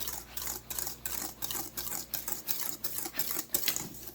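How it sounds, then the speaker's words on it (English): Cake batter is whisked by hand in a bowl for a chocolate cake, giving steady rhythmic scraping strokes, several per second, close and fairly soft, with no talk. "I'm going to whisk this together."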